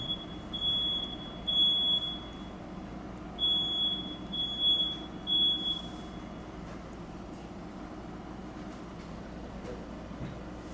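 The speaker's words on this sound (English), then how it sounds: "Checking the fire alarms." A building fire alarm sounds during an alarm test, giving several bursts of piercing high electronic beeping in two groups over the first six seconds, then falling quiet against a low room hum.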